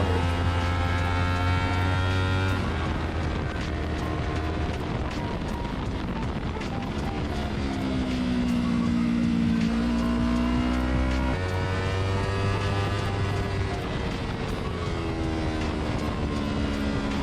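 Motorbike engine in a racing video game while chasing a ZX400 rival, a steady droning whine that climbs and drops in pitch through gear changes, loud and continuous without speech.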